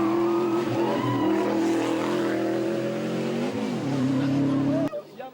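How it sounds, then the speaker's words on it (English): Rally cars on a stage of the 2010 Pearl of Africa Uganda Rally roar past close by, engines loud and sustained with a pitch shift and a brief revving dip before cutting off abruptly. "It's surprising that at the pace Nasser Mutebi and Bashir Mboko passed our cameras, that they were not further up the leaderboard"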